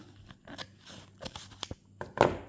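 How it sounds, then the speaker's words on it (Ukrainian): A parcel is cut open with scissors, giving faint snipping and crinkling of packaging in irregular bursts, quiet and close, with a louder rustle near the end. "Ось я вже дорізаю посилочку."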